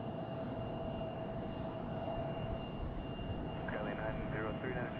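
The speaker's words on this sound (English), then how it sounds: "Here's our flex jet, another Gulfstream." A Gulfstream business jet runs at Tucson International Airport, a steady engine roar with a sustained whine, heard at moderate distance while a person speaks over it.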